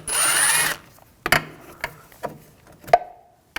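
A power tool whirs briefly with a T25 socket, backing a screw out of the cooling fan assembly on a 2006-2009 Audi 4.2L V8, followed by a few light clicks and clunks of parts being handled.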